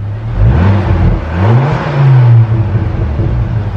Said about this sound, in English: let's give it a little bit of a rev. Turbo's more whistler.